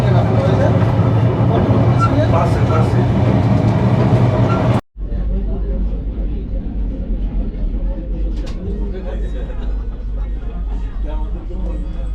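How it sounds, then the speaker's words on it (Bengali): Chitra Express passenger train running on the rails, a loud continuous rumble heard from inside the carriage, cutting out briefly before resuming with a lighter rolling clatter. "এখন আবার ট্রেন ঢাকার উদ্দেশ্যে যাত্রা শুরু করল"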